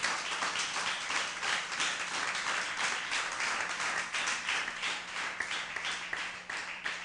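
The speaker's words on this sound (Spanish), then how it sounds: "Damos un aplauso al Señor ahí." A congregation applauds at a church service in Tuluá, a steady broadband round of clapping that holds for the whole stretch without letting up.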